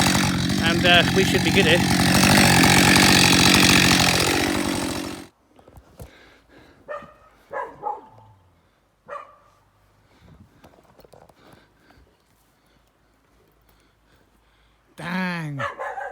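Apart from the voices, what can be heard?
Husqvarna 550xp chainsaw cutting dead tree branches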